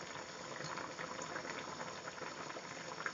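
Chicken giblet soup with vegetables simmers in a pot, giving a soft, continuous bubbling and gurgling that stays faint and even throughout.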